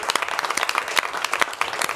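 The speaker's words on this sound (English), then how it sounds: "how about a round of applause for Mark?" A small group of people clapping for a couple of seconds, individual handclaps distinct and uneven rather than blending into a roar, fairly close.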